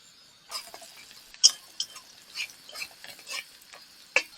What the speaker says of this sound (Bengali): তো শুধু জাস্ট মশলা দিয়ে তেল দিয়ে আবার কষা নিলেই হয়ে যাবে